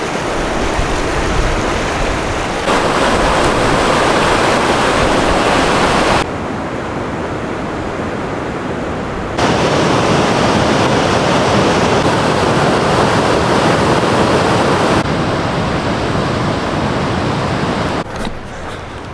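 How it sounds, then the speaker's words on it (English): The Tuolumne River in Yosemite rushes past close by as a loud, continuous broadband roar of flowing water, its level shifting in abrupt steps from one stretch to the next. "This is the Tuolumne River."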